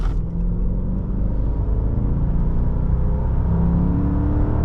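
A 2001 Mercedes-Benz S55 AMG engine hums and rumbles steadily at low pitch, with a smooth continuous drone and slight revving swells as the car drives.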